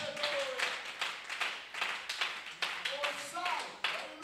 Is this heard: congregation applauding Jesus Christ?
yes